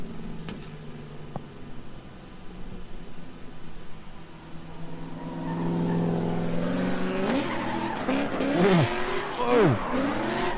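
Drift car at a street drift event, engine building then tires squealing and skidding in rising, wavering bursts over the last few seconds, with crowd and commentator voices in the background.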